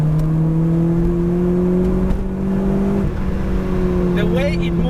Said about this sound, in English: behind the wheel of a very lightweight Lotus like this, you realize that lightness is everything